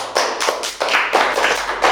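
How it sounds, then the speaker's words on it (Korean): Scattered applause from a comedy-show audience: a handful of sharp, broadband hand-claps in an irregular rhythm, close and fairly loud, with no talking over them. "박수 한번 주세요."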